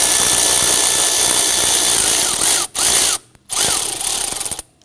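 A power tool with a socket loosening the nut on a knock sensor of a 2011-2014 Kia Sorento engine, heard as a loud, steady whirring drone that cuts out briefly twice before running again and then stopping.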